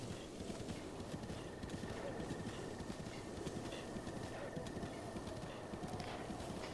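Horse hooves clip-clop in a fast, steady rhythm as a rider travels in Zelda Breath of the Wild, fairly faint under a constant ambient game bed.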